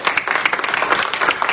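A congregation bursts into brief, dense applause during a sermon, with many hands clapping together close and loud, a busy crackling patter throughout.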